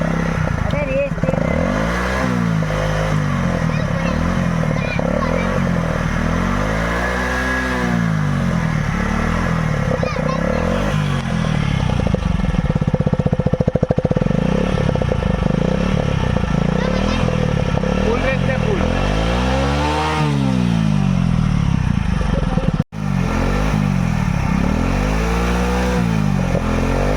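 A Hero Splendor Plus motorcycle fitted with a coke can exhaust revs repeatedly, rising and falling in loud, rough bursts close by, while people talk over the engine.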